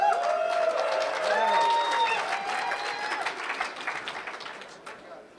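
An audience at a security conference keynote claps in a broad wash of applause that gradually thins and fades, with whistle-like tones and murmured voices mixed into the crowd noise.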